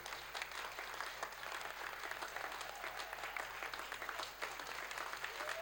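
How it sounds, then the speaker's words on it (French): Audience applause at a choir concert for the Vox Christi choir, a dense, steady wash of many hands clapping in a hall, sustained evenly throughout at moderate distance. "le maestro Michael Digan, qu'on va applaudir très fort, s'il vous plaît."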